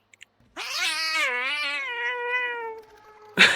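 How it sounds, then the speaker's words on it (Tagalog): A cat gives one long, loud, drawn-out meow close to the microphone, wavering in pitch, followed by a brief noisy rustle. "Ay, pusa pa."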